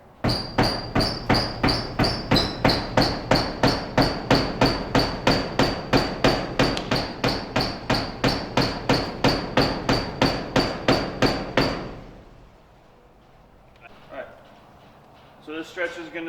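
Regular, evenly spaced heavy thuds of a medicine ball thrown against a wall, about three per second for twelve seconds, each a sharp impact against a hard surface, then quiet with a few faint knocks.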